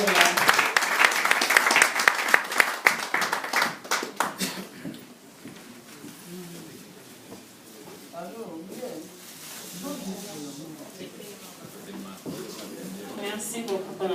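Audience applause at a gathering in the Democratic Republic of Congo, a loud burst of clapping over the first four seconds that fades out, followed by a person talking.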